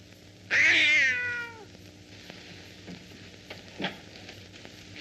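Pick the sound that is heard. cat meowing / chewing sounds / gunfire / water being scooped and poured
cat meowing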